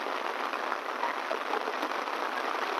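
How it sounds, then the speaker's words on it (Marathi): Heavy rain pours steadily in a hilly forest area, a dense, continuous hiss of drops striking leaves and ground that stays loud and unbroken throughout, with no voices. "खूप जोरदार असा पाऊस चालू झालेला आहे इथे"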